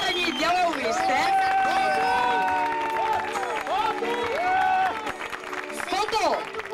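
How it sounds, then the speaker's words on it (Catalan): A crowd at a country line-dance competition's awards applauds and cheers loudly, clapping blended with shouts, whoops and music, steady and full throughout. "Un aplaudiment ben fort, sobretot, és el primer."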